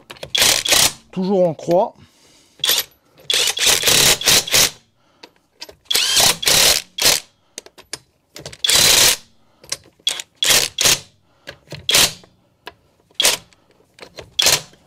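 A Onevan impact wrench runs tightening nuts at its minimum setting, loud short bursts of rattling hammering repeated in irregular spurts, with someone talking between them.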